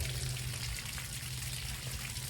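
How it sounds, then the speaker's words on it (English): Water from a garden hose runs through flushing muffs on a Tohatsu 40 outboard engine, a steady full-band rushing hiss with a low hum underneath, continuous and fairly close. "I got the water hose hooked to the muffs."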